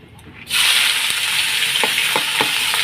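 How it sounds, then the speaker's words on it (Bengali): Potatoes for ghugni dropped into hot oil tempered with cumin seeds: a quiet start, then a sudden loud sizzle that holds steady, with a few spoon or pan clicks near the end. "তেলের মধ্যে জিরে ফোড়ন দিয়ে দিয়েছি এখন আমি ঘুগনির আলুগুলো দিয়ে দেবো"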